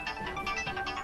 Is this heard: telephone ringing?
yes